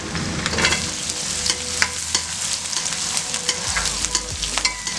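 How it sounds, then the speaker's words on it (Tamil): Shallots, garlic and curry leaves crackle and spit in hot oil for a prawn and brinjal curry, with a loud, close sizzle and quick popping and stirring clicks throughout. "எல்லாமே எடுத்து போட்டு தாளிச்சுக்கலாம்"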